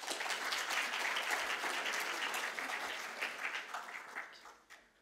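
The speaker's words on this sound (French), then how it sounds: "Je vous demanderai de les applaudir." An audience in a lecture amphitheatre applauds two invited guests, with brisk, fairly close clapping that stays strong for a few seconds, then thins into scattered claps as it dies away.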